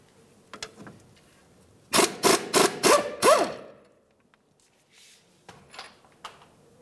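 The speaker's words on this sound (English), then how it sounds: "remove this 15mm mounting bolt that holds the knuckle to the strut" A quick run of five sharp, loud mechanical bursts in rapid succession as a power tool spins off a 15mm bolt holding the steering knuckle to the strut on a 2010-2013 Ford Transit Connect, with faint clicks and rustling before and after.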